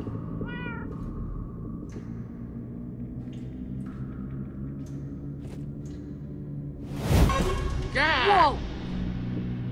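Cats meow in the Minecraft Story Mode video game: a faint mew early, then two louder wavering meows near the end over a low background drone.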